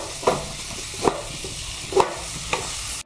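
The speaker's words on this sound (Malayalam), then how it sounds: "അത് നമുക്ക് നല്ലപോലെ ഇളക്കാം." Grated jaggery being stirred into ripe banana halwa in a pan, with four distinct scraping strokes of the spoon spaced about a second apart over a low, steady cooking hiss.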